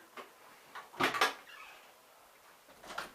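Someone tries a locked door, producing a few short knocks and rattles with one louder cluster of clunks in the middle, fairly close and otherwise quiet, with no speech.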